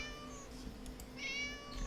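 Cat in Neverwinter Nights 2 meowing twice, short high-pitched mews close by over a low ambient hum, with a soft background tone throughout.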